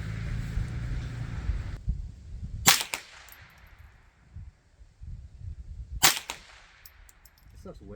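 Two sharp, loud shots from a .22 rifle firing Winchester Super X ammunition, spaced a few seconds apart, at an outdoor range with low rumbling background noise between them.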